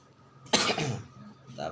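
A single harsh cough bursts out near the microphone, followed by a brief voiced sound.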